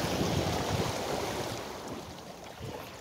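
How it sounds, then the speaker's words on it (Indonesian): Fairly big ocean waves wash against the rocks at a seaside fishing spot, a continuous rushing surf mixed with gusty wind buffeting the microphone, close and steady. "ombaknya lumayan besar"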